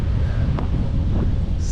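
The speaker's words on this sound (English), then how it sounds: "Strong face wind all day" Loud, steady wind buffeting the microphone during a bike ride through Austria, Slovakia and Hungary, a strong headwind roaring continuously throughout.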